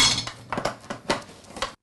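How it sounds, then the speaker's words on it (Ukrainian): Dishes and pots clink and clatter as they are handled for washing, a handful of quick sharp metallic knocks spaced irregularly over under two seconds, close and clear with no voices. "Приносим воду из колодца и нагреем, чтобы помыть посуду."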